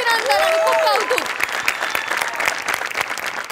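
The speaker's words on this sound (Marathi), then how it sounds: "सगळ्यांसाठी टाळ्या." Audience applause at a Marathi comedy show, a dense wash of clapping loudest at the start and steady throughout, with a few whoops and cheers rising over the top early on.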